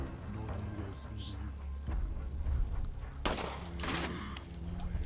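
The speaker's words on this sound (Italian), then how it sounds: "Cioè spari contro la colonna." Gunfire aimed at a stone pillar in the Resident Evil 4 video game, a few sharp shots with a broadband burst near the middle and later, over steady game background sound.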